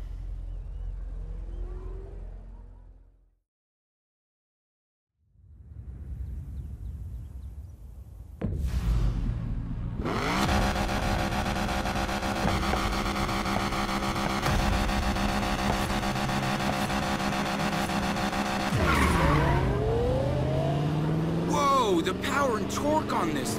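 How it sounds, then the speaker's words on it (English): A souped-up car in the Need for Speed Payback video game revs up after a brief silence, then its engine roars loud and steady, ending with a tire skid and more revving. "Torque on this thing. Rav's souped-up Mustang doesn't even come close."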